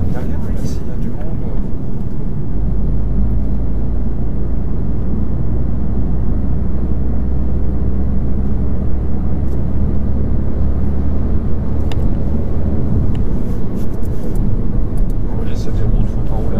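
A car cruising on an open road during a driving lesson, steady low engine and road rumble throughout with a voice speaking over it.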